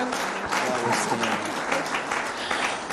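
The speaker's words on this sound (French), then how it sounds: "On peut acclamer pour la parole de Dieu" Church congregation applauding after a sermon, a steady wash of dense hand clapping throughout, close and lively, with a voice faintly mixed in.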